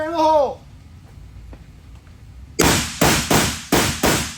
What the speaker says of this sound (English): yes, these are full power military loads. Fire in the hole!